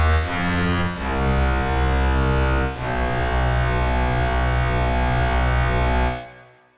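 A synthesized reed-like lead from the Vital synthesizer, reminiscent of an oboe, holds long drawn notes over a low drone, bathed in reverb before fading out.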